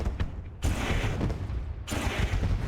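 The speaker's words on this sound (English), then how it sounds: "So we'll let the fireworks kick off before we take a look at our live results" Fireworks going off at Eldora Speedway after a sprint car race, a rolling barrage of booms and crackling bursts with two sharp onsets, loud and continuous over crowd-like ambience.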